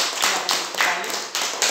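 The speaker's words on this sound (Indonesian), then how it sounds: "Mari kita tepuk tangan untuk beliau." A primary-school class applauds their teacher in a classroom, a short burst of dense clapping from many hands with a few brighter swells, close and fairly loud.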